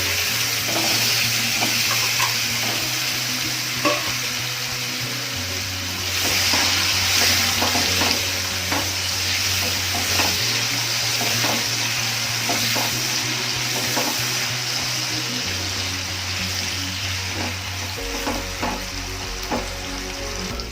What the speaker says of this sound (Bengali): আলুগুলো লালচে করে ভেজে নেব।